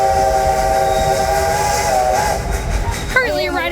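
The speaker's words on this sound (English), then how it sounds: "Currently riding on the train." An amusement park train ride rolls along with a steady rumble while a whistle sounds in sustained tones, then shifts into a wavering, rising call near the end.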